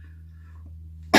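A person gives one short, loud cough at the end, breaking a quiet stretch with low hum.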